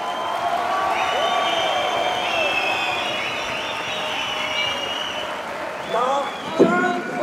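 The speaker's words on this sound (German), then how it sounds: "Also nochmal euren Applaus für diese beiden Krieger." Crowd at a fight event applauding and cheering for two fighters after a semifinal bout, a continuous wash of clapping and whistles beneath an announcer's voice, with louder whoops toward the end.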